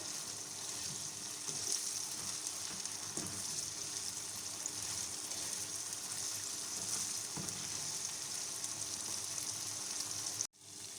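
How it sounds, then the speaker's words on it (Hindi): Chicken pieces fry in a pan with a steady, fairly quiet hiss and crackle, punctuated by a few soft stirring knocks, running evenly until an abrupt cut near the end. "एक मिनट तक हम इसे फ्राई करेंगे।"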